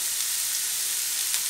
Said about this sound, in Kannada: ಈಗ ಸಾಸಿವೆ ಸಿಡಿದಿದೆ. ಇದಕ್ಕೆ ತುಂಡು ಮಾಡಿದ ಬೂದು ಕುಂಬಳಕಾಯಿ ಓಡುಗಳನ್ನು ಹಾಕಿ